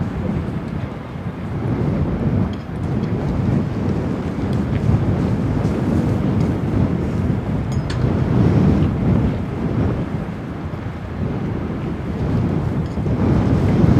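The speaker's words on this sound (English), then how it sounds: "Yeah, it's really windy." Strong wind roars and buffets the microphone continuously at RAF Lakenheath airfield, a steady low rumble with gusty swells and no voices.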